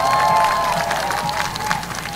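Crowd applause at a political campaign rally in Busan, South Korea, a dense continuous wash of clapping and cheering from a large gathering, loud and steady throughout.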